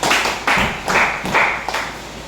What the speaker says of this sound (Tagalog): Bigyan ulit natin siya ng 5 bagsak na palakpak.